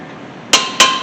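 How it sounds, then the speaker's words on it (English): Two sharp metallic hammer strikes ring out close by on a wrench, tightening a caliper bracket bolt on a 2007 Honda Accord, spaced about a quarter second apart with short ringing decay. "Hit it a few times with a hammer."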